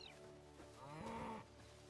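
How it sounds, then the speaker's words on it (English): Baby cows in the video game Hytale give a single short, low mooing call, quiet and somewhat distant, with no talk over it. "I think those are those baby cows that I saw before."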